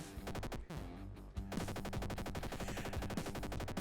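Continuous rapid-fire shooting in the zombie shooter Over 9000 Zombies, a fast even rattle of shots with a short break near the start, then steady fire over game music.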